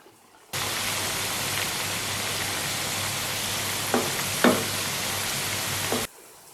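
Cut taro root fries in hot oil in a pan, a steady, close sizzle running evenly throughout, with a few faint scraping clinks as it is stirred.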